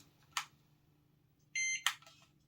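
Beeps from an RC car as its hazard lights switch: a short electronic beep, then a longer steady tone followed by another beep, close and clear in a quiet room.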